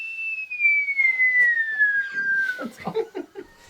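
A person whistles a long, steady tone that slowly falls in pitch for about two and a half seconds. Short, broken sounds follow, which may be more whistling or movement, and people appear to be on set nearby.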